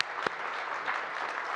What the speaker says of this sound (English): Big round of applause for the leaders.